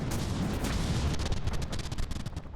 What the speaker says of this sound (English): We're immediately starting to fire.